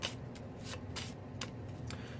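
Apex Legends board game cards being shuffled by hand, a few soft riffling bursts at a steady pace, close and fairly quiet.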